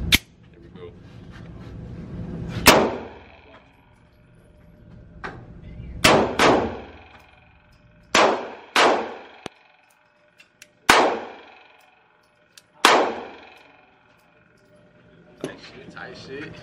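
Pistol shots fired outdoors during a recoil control test ring out as sharp, loud single cracks and quick pairs, about eight in all, each with a brief echoing tail and pauses between.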